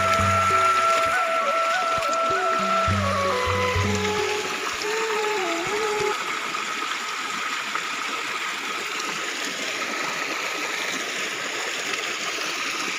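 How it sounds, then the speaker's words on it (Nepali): Water pours steadily from a jungle spring that serves as a village water source, a continuous close rushing flow; some faint tonal sounds sit over it at the start. "पानीको सोर्स हो अब यहाँबाट कतिजनाले पाइपहरू लगेर पानी पिउने गर्छ"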